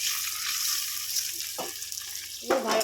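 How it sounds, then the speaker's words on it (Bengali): Turmeric-coated rice is stir-fried in oil in a pan, a close, steady sizzle broken by a couple of brief scraping stirs. "ভালো করে একটু নেড়ে নেড়ে ভাজা করে নিচ্ছি।"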